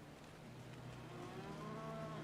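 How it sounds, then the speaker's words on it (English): A cow in Diablo II gives a long, low, steady moo that swells slightly in loudness, heard alone and up close over a soft ambient background. "It's a cow."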